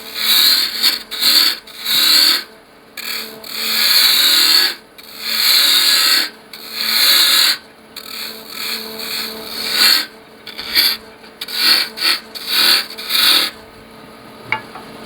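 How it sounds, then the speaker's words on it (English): A roughing gouge cutting spinning wood on a lathe while shaping a pepper mill, a loud, continuous rasping scrape that surges and fades in repeated passes, close up and without talk. "Now I've gone back to the roughing gouge."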